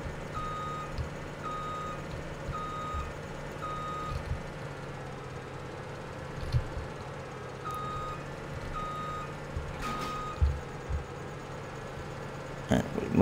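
Reversing beeps from a truck backing up with a trailer in the farming game Farming Simulator 17, a steady repeating beep over a low engine drone with a few clunks near the end.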